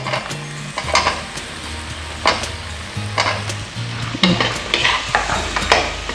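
Potatoes sizzle loudly in a pan for shing fish with brinjal, while a utensil stirs and scrapes against the pan in repeated strokes, with no talking.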